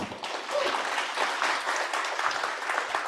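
Audience applause at a Monday-morning panel event, a dense, even wash of many hands clapping together, moderately loud and sustained.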